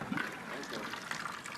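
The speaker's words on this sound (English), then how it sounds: "Once you have the starchy cooking water, drain your pasta off." Starchy pasta cooking water drains off spaghetti, a steady close trickling and splashing, with a voice talking over it.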